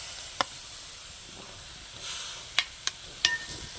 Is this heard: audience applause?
no